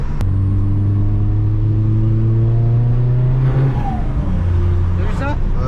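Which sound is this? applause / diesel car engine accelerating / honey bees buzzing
diesel car engine accelerating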